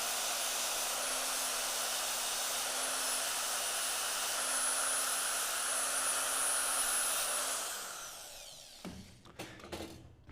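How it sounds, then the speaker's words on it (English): A straight grinder fitted with a radial bristle brush, used with 80 grit to clean a curved metal surface, whines steadily at high speed for several seconds and then spins down. A few clattering handling knocks follow. "The straight grinder that can be used for something like that."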